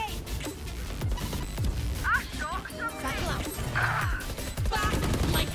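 Grenade blast and gunfire in the shooter game Valorant, a dense clatter of shots and impacts mixed with chirpy effects, loud and continuous under excited talk.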